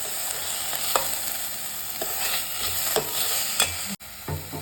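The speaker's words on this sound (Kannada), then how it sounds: "ಒಂದೊಂದೇ ಹಾಕೊಂಡು ಫ್ರೈ ಮಾಡ್ಕೊತ ಹೋಗ್ಬಿಡ್ತೀನಿ" Cauliflower pieces for gobi manchurian fry in a pan with a steady sizzle. A spoon stirs and scrapes them at intervals, and no one speaks.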